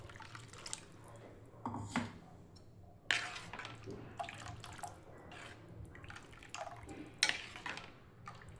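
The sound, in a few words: water poured into broccoli soup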